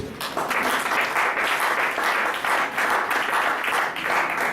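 A church congregation applauds during a sermon, with loud, sustained clapping from many hands that fills the whole space without pause.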